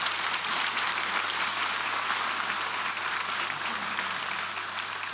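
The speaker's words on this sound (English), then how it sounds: "give them all a round of applause." An audience at a panel discussion claps in sustained, even applause that holds at a steady level for about five seconds, dense and fairly near.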